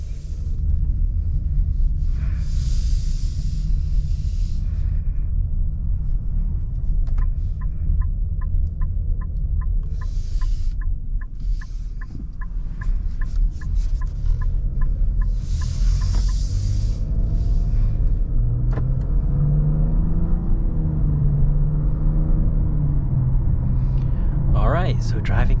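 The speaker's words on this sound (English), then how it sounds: "So driving this 2022 Nissan Rogue drives beautiful, very nice and responsive" A 2022 Nissan Rogue with a 1.5-liter turbo three-cylinder hums along at driving speed, a steady low rumble of engine and road noise inside the cabin, with a faint rhythmic ticking partway through and someone talking over it.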